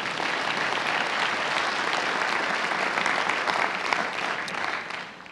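Audience applause fills a community listening session at Fort Knox, a dense, steady wash of many hands clapping together at close range, holding level for several seconds before tapering off at the end.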